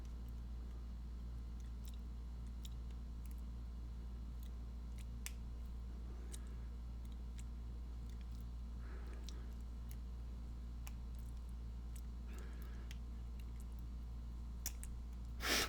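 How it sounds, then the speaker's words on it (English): An Eagle padlock being single pin picked, giving faint, sparse metallic ticks and clicks over a steady low hum, with no talking. "let's go ahead and see if we can single pin pick this now."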